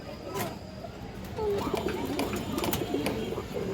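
A large pigeon coos in soft repeated rolling calls close by, with faint background noise behind it.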